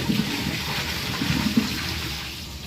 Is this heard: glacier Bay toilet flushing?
yes